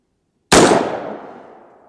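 A single gunshot is fired at an XR32 level 4 body armor plate outdoors, a sharp, loud crack after silence that rings out and trails off in a long, fading echo.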